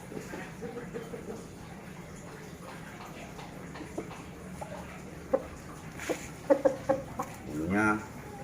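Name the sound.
chicken clucking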